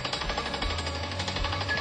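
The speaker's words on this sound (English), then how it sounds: "We have a drill rig here today, and we are taking soil and groundwater samples" A drill rig taking soil and groundwater samples on a site in Sparks runs with a steady, continuous rattling pound and a low mechanical rumble underneath, constant and moderately loud with no talk.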